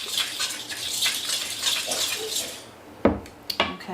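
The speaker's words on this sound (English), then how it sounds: "I'm going to stir that a little bit" A utensil scrapes and stirs cake batter made with olive oil in a bowl, a continuous wet swishing sound that ends in a few louder clinks against the bowl.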